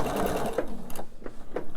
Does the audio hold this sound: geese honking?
no